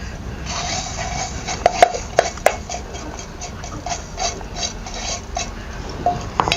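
Roasted mustard seeds are crushed into a coarse dal by hand for a sweet-and-sour lemon pickle, a continuous gritty rubbing and scraping close by, with scattered sharper taps and knocks.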